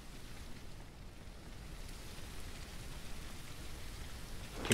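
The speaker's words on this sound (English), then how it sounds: "It's only raining." Rain falling steadily, a soft continuous patter and hiss that swells slightly toward the end, with no voices over it.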